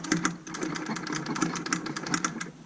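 Hand priming pump drawing fuel through the fuel filter of a Massey Ferguson 550 tractor, a rapid steady mechanical chatter with repeated clicking strokes, fairly close and continuous with no talk.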